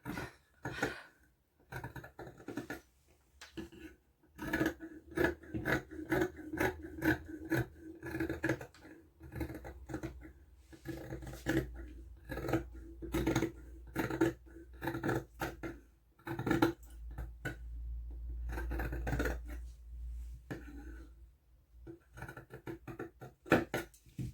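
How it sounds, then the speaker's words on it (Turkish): Crisp snipping and crunching of scissors through thick fabric, a rapid series of cuts with short pauses, close up. "makasın bu kesim sesine e, bayılıyorum"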